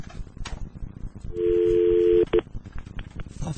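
Telephone keypad tones ring out as a number is dialed, a sustained touch-tone followed by two short beeps, loud and close over faint background voices.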